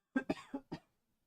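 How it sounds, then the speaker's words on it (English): Four quick, dry coughs from a sick person in a rapid burst, close and fairly soft, followed by silence. "I have to cough"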